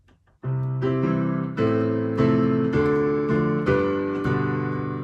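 Piano plays the chord sequence of a song, a steady series of sustained block chords struck roughly every half second to second, loud and alone.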